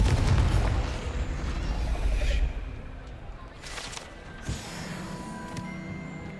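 The Confringo blasting curse goes off in Hogwarts Legacy as a loud, deep explosion that booms at once and then rolls off into a fading rumble with lighter debris noise.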